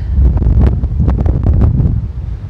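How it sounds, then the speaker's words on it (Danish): Strong outdoor wind buffets the microphone in steady low rumbling gusts with irregular bursts, loud and close, and no talking. "Alt det blæser her."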